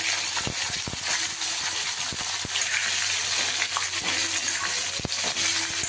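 Capsicum frying on a low flame for a masala shimla mirch dish, giving a steady sizzling hiss with a few light scrapes and knocks from stirring, close and even throughout.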